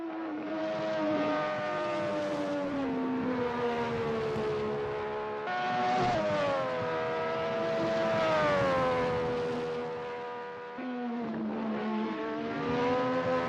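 Race car engines warming up at Donington Park in a racing game, high revving tones climbing and falling through gear changes, several cars droning steadily and loud with no talk.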